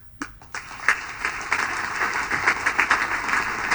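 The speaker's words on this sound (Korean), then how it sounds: "박수 소리가 나오고 있습니다" Audience applause breaking out during a speech on tax reform, starting with a few scattered claps and swelling into steady, dense clapping from a crowd.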